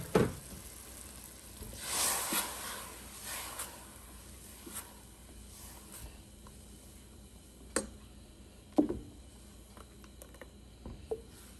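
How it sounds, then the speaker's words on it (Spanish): Ground tomato blended with other ingredients hits a hot pan, giving a soft, steady sizzle that swells early then settles into a quiet frying hiss with a few sharp utensil knocks. "agregamos el jitomate que ya tenemos molido aquí, junto con los demás ingredientes"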